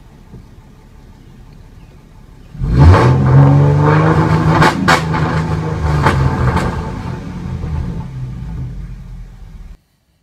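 Ford Mustang (S197/S550) engine with an MPT tune held against a 3600 rpm rev limiter, a loud steady droning rev that starts abruptly, holds with slight bouncing pulses as the limiter cuts in, then stops sharply.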